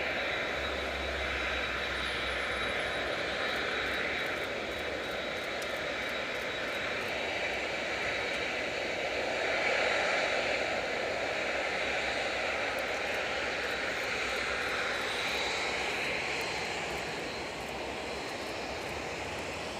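Airbus A380 of Asiana or Korean Air taking off on Rolls-Royce Trent 900 jet engines, a broad, steady roar with a high whine held for the whole stretch, heard from a distance at even loudness, with no talk.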